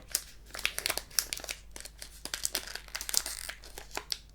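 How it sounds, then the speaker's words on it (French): Crinkly foil of a Pokémon card booster pack being torn open up close, a dense run of sharp crackling rips and crumpling bursts with no voice. "j'ai mal ouvert ce booster"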